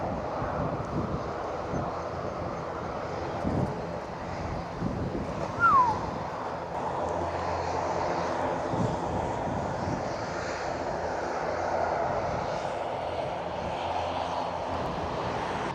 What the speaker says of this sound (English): Here comes an ANA flight from Tokyo as well.